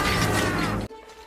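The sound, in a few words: mouse traps snapping one after another, film Mouse Hunt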